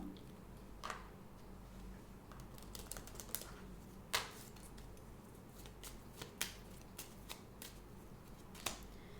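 A Divine Doors oracle deck being shuffled before a card is drawn: faint, soft papery shuffling with sparse sharp flicks over a steady low room hum, close and without talk.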